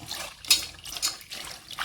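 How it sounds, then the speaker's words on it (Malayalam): Cauliflower pieces are washed by hand in water, giving soft splashes and trickles in a few short bursts close by, with no talking. "നല്ല വൃത്തിയാക്കിയതിന് നമുക്ക് പച്ചവെള്ളത്തിൽ നല്ല വൃത്തിയിലൊന്ന് കഴുകിയെടുക്കാം"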